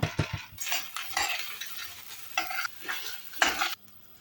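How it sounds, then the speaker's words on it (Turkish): Washed rice goes into a pot of hot oil, giving clattering, sizzling bursts with utensil scrapes and stirring. The sounds are close and uneven, and no one speaks. "Annem iyice yıkadı pirinçleri ekliyor"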